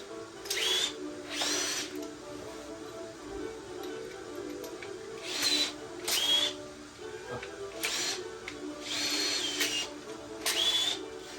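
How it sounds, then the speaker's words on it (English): Cordless power drill backing screws out of a gate fitting outdoors, in six or seven short whirring bursts spread across the clip, loud and close, each one a quick rising whine followed by a pause. "I got to take these screws out of here."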